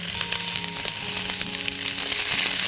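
Two medium chopped onions hitting a hot pan for butter chicken, giving a loud steady sizzle with crackling bursts up close, no talk.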